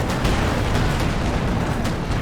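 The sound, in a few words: tank gun shots and explosions, video game Company of Heroes 2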